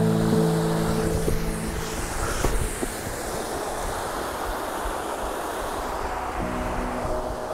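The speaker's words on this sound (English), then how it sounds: "There's the first waterfall." A waterfall on Willowemoc Creek rushes as a steady, dense roar throughout, close and fairly loud, with some low rumbling at the start and no voices.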